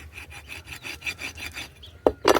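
A knife cuts through the joint of a country chicken during cleaning, making a steady rhythmic rasping scrape of about a dozen strokes, then two sharper, louder cracks at the end, close up with no talking.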